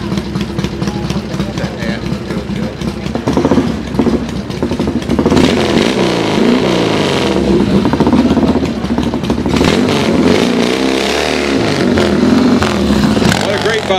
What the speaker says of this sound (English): What a great bike. 68 Velocette Venom Thruxton V-Line.